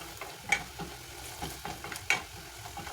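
Onions with garam masala sizzle in a pan under a quiet frying hiss, broken by several scraping stirs and soft clinks from a utensil against the pan, and nobody speaks.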